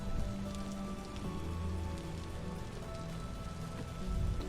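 Steady rainfall in the survival game Vintage Story, a dense continuous patter of drops on surfaces, moderately loud and unbroken, with no voices.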